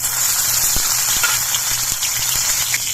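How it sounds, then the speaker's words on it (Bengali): Nigella seeds and four slit green chillies sizzle in hot oil in a pan, a steady loud hiss with small crackles and pops running throughout, no talking. "এবার এই তেলের মধ্যে দিয়ে দিচ্ছি ছোট ছোট চামচের এক চামচ কালো জিরে দিয়ে দিচ্ছি চারটে চেরা কাঁচা লঙ্কা"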